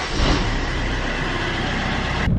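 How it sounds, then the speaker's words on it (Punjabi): A car engine runs loud and steady close by, with a rough mid-range rumble throughout and a brief change in tone near the end. No one speaks. "ਗੱਡੀ ਕਰਦਾ ਮੈਂ ਸਟਾਰਟ"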